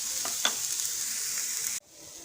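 Onions sauté in a pan for Kerala-style chicken cutlet, giving a steady close sizzle with a brief stirring scrape before the frying sound drops off sharply.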